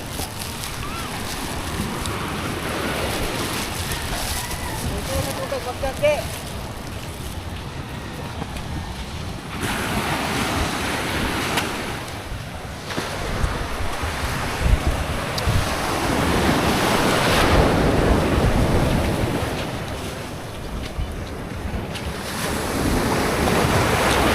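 Steady roar of surf rolling onto a shore, with wind buffeting the microphone throughout and swells rising and falling in loudness.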